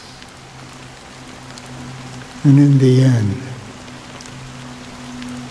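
Steady rain falls in Honkai Star Rail's Penacony, a soft continuous patter that runs throughout while a voice briefly speaks a short line over it midway.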